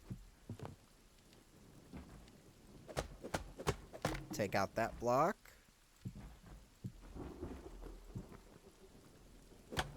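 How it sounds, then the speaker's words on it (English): Rain and rolling thunder of a thunderstorm in the video game Hytale, a soft patter with a rumble near the middle, under someone talking. "that thunderstorm sounds amazing in this game"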